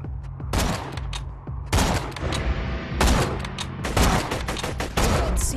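Bursts of gunfire in Borderlands 2 co-op combat, rapid automatic volleys in several loud clusters with short pauses between, sharp and close over a low rumbling background.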